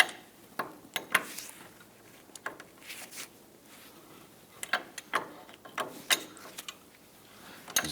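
Breaker bar and wrench clicking and clanking on the front CV axle nut of a 2006-2010 Hummer H3, with scattered sharp metallic ticks and ratchet-like clicks at irregular intervals, close up and fairly quiet, with no talking.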